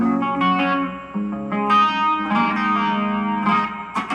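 Electric guitar played through a Korg AX3000G multi-effects unit with spring reverb, a few sustained strummed chords with a shimmering, echoing tail, loud and alone with no talking.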